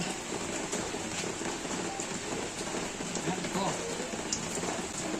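A steady wash of rain falls without pause, its dense hiss filling the whole stretch with no clear gaps.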